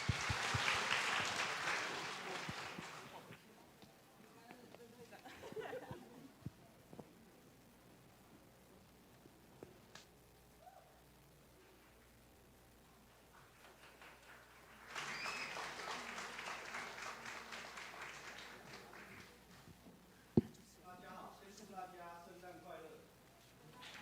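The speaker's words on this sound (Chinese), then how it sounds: "我们可以用掌声来欢迎萨克斯风班带来表演" An audience at a church Christmas evening gathering claps to welcome a saxophone class performance, with a loud burst of applause at the start and another swell later, separated by quieter stretches with speech.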